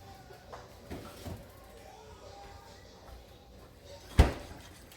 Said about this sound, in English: I'll stick that in my refrigerator